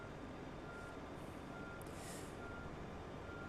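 A catering truck at an airport in Microsoft Flight Simulator 2020 sounds faint, evenly spaced reversing beeps over a steady broadband rumble of engine and ambient airport noise.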